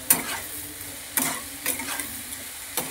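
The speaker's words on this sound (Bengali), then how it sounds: "এবার আবার একটু নাড়াচাড়া করে নেব।" Vegetable soup being stirred in a pan at home, with a few distinct scrapes and knocks of the spoon against the pan over a soft simmering background, close and fairly clear.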